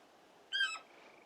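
A falcon in Final Fantasy XVI gives a single brief, piercing cry that rises and fades over a quiet ambient background.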